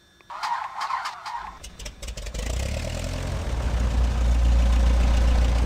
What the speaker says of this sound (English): So we'll start the engine.